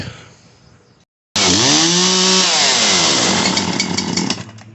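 Poulan Pro PP5020AV 50 cc chainsaw engine being revved after a carburetor and fuel line repair, starting up loud and close after a brief silence, with a rising and falling rev before settling into a rough high-pitched running drone.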